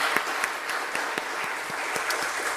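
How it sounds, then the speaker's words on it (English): Steady applause fills a church press conference marking completion of a rooftop solar project, dense clapping with sharp individual claps popping out, sustained and moderately close without pause. "So let's give it a round of applause."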